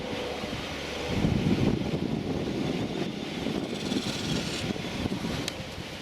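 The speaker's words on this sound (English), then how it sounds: "the wind's picked up again" Wind gusts outdoors during a power outage, a broad rushing roar that swells after the first second and keeps buffeting the microphone with uneven, turbulent surges.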